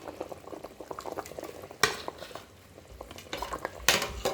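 Plantains cooking in a pot of boiling water for a Cameroonian goat meat pepper soup, with steady soft bubbling, a few clinks of a utensil against the pot, and two sharper knocks, close and without talk.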